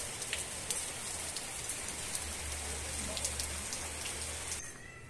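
Rain falls steadily outdoors during a car engine wash, a continuous dense patter of drops on surfaces with a low hum underneath.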